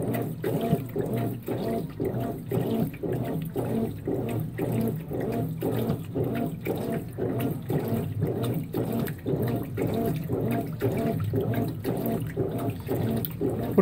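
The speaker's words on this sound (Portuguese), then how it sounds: "Por tanto de água que tem aqui dentro, ela devia estar lavando bem mais roupa." A Consul 16 kg washing machine fills and washes on its high water level, with a steady churning slosh that repeats in a regular rhythm about every half second. The sound is close and continuous, with no voices.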